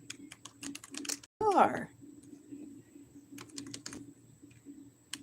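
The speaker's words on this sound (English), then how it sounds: "I'm typing that in." Fingers type on a computer keyboard in a quiet room, with brisk clusters of light key clicks broken by short pauses and a brief spoken word.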